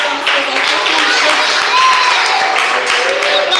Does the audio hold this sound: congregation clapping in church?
yes